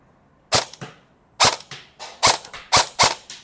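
A customized electric BB gun, tuned for accuracy, durability and long range and fitted with a barrel kit, fires outdoors at a target about 30 metres away. Around seven sharp, loud snapping shots come in an uneven quick sequence, each with a short echo.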